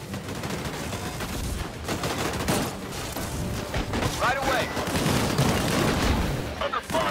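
Gunfire rattles through a battle scene in the video game Disintegration, with loud continuous bursts and booms, under shouted voices.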